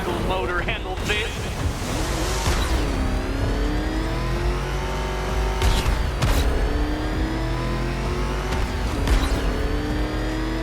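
Batmobile engine racing in the video game Batman Arkham Knight, a loud continuous roar with rising revs and a few sharp bursts, while a voice talks over it.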